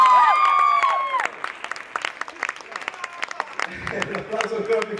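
Crowd applause and cheering at a live concert in Colle Sannita, with dense clapping rising after a fading announcer's voice, continuing steadily with scattered shouts.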